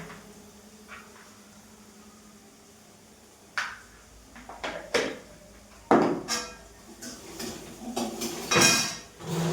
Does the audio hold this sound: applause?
no